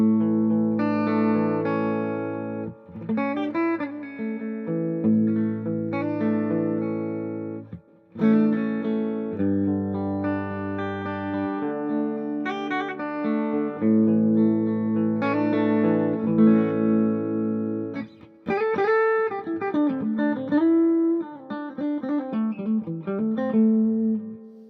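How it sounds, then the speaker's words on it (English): An electric guitar played through a cranked amplifier into a 2x12 cabinet, ringing with sustained distorted chords and lead runs, loud and continuous with reverb. "we're going to go ahead and crank up the amp a little bit and just to see what kind of sounds we get"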